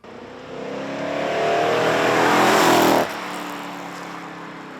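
A 1980 Chevrolet Corvette's engine revs up while driving, the tone climbing loud and close for about three seconds before the throttle lifts suddenly and it settles into a steady lower drone.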